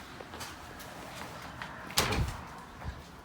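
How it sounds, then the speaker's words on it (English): A single dull thump against a door in an old Wigwam Village cabin, fairly close and brief, with faint room noise before and a softer knock afterward. "Bump my head on the door here."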